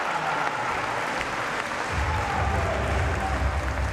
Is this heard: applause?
yes